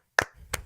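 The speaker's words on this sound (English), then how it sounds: "a clap for you" Two sharp hand claps, close and distinct, spaced about a third of a second apart with no voices over them.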